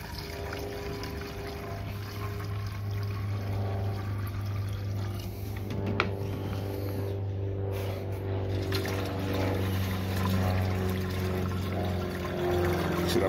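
Water pours from a gallon jug into a garden sprayer, a steady low gurgling rush that runs continuously and fairly quietly for the whole stretch.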